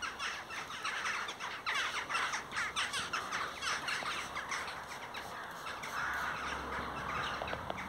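A flock of crows flies over, giving loud repeated caws and squawks in a ragged, overlapping series that grows busy near the middle and continues with no talk.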